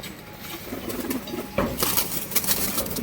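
Andhra Akash Pokuri pigeons shift and flap inside a cage, giving a soft rustling that turns into louder bursts of wingbeats partway through, close by and with no voices.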